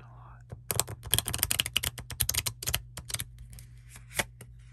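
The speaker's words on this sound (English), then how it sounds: "Oh no, that was such a bad shuffle." Close, crisp clicks and riffling flutters come from a deck of playing cards being shuffled, in quick irregular bursts that are louder in the middle and taper off, with a soft voice faintly present.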